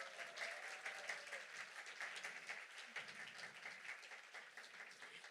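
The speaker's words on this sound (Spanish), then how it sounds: "Un aplauso para Mel." A crowd at a festival talk applauds for Mel, a dense sustained clapping that is fairly quiet and steady throughout, with a faint voice briefly under it near the start.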